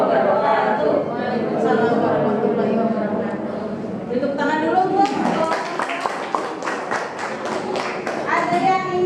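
A high-school class claps, with a burst of distinct, fairly close hand claps in the second half. Voices talk over the earlier part and continue through the clapping.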